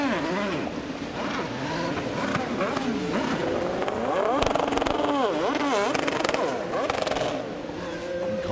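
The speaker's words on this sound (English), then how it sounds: "Listen to all the cars on the rev limiters." Several IndyCar race car engines at the 2016 St. Petersburg race rev and bounce against rev limiters in overlapping, wavering tones, with a crowd-like din and voices underneath.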